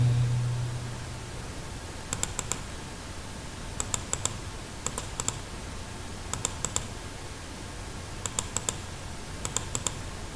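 A computer keyboard is typed while entering AutoCAD Civil 3D commands, giving short bursts of crisp, close key clicks in small groups spaced every second or so over a steady hiss of background noise.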